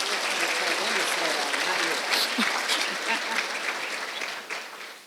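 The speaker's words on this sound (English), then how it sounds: "Let's give a big round of applause for Melanie Thomas." A crowd at a school teacher-of-the-year celebration claps in sustained, dense applause that tapers slightly toward the end.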